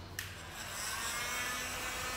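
A heat gun blower warming a dented white car body panel gives a steady, broad airy hiss that holds evenly and swells slightly, close and moderately loud, with no talking.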